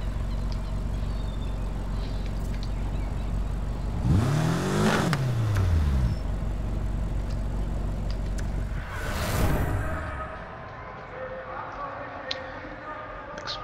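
A car launching off-road in the Need For Speed Heat video game: the engine revs up with a rising and falling whine, drops back, then surges again briefly before settling into a lower hum.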